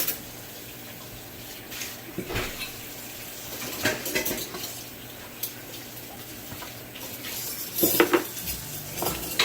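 Spoons scraping and clinking against a pot while thick champurrado is stirred, a steady run of soft metallic scrapes and taps with a few louder knocks, close by, with no talking.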